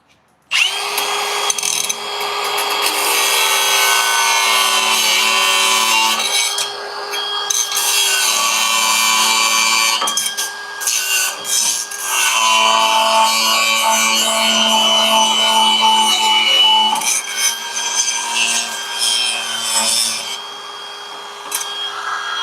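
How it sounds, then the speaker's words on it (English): A power grinder working metal off a car part during an AC system flush in a garage, a loud steady whine that runs for about twenty seconds with brief dips in pitch and pressure, close and without talk. "Let me grind this off real quick."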